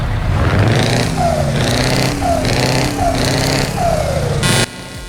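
Engine of a modded Ford truck in Euro Truck Simulator 2, loud and close, with repeated revving surges and rising whines over a steady rumble, ending in a sharp broadband burst before cutting off.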